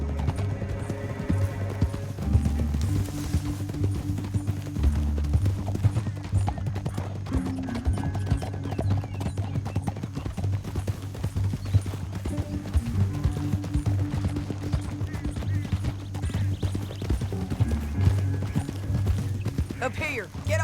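Horses gallop in Red Dead Redemption 2 in a steady rhythmic clatter of hooves throughout, with a voice speaking now and then over the running.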